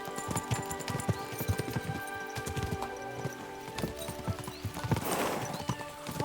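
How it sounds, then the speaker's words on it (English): Horse hooves clip-clopping at a steady gallop in the medieval video game Kingdom Come Deliverance II, a close, rhythmic pounding of repeated beats over a music-like background, with a brief whinny near the end. "We should spur the horses on."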